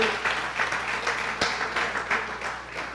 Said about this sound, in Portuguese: aplauda ao Senhor com o seu melhor.